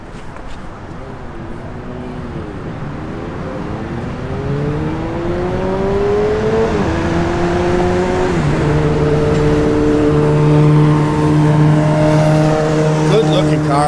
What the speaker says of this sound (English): Dual exhaust.